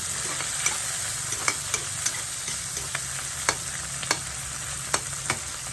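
Tomatoes sautéing in a pan, a steady close frying sizzle broken by the sharp taps and scrapes of a spoon stirring at irregular intervals, with no voices.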